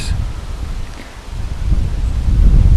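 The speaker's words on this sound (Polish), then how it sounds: "jak wieje wiatr." Wind gusts across the microphone with rustling leaves, a low rumbling roar that builds louder toward the end. No voices.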